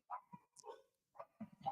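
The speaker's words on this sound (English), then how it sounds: "Crazy dog." A dog gives several short, close barks and yips in quick uneven bursts, separated by brief silences.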